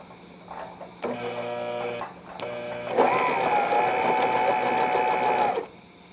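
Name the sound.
sewing machine stitching a baby carry nest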